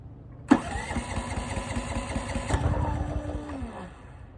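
A WEN 6800 dual fuel generator started with the choke on, a sudden starter pull catching into a rough, throbbing engine idle close by, with a second surge midway as it settles into a steady running drone.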